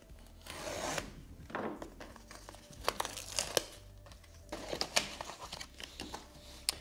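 Packaging from an instant film camera kit is unwrapped and unboxed up close, with bursts of crinkling plastic and paper, tearing, and scattered rubbing and knocks of cardboard at a quiet level.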